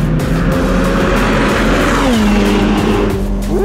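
Ferrari 488 Pista racing around the Cervesina circuit, its engine note loud and close with steady high revs, a pitch dip around the middle and a rising surge at the end, no voices over it.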